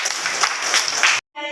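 Children in a classroom clap in a brisk, dense burst lasting just over a second, cut off sharply before a voice begins to speak.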